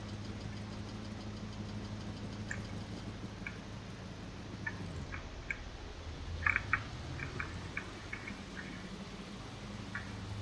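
A boat engine in the Stormworks video game turns over and settles into a steady low idle hum, with small clicks and rattles scattered over the drone, no voice heard.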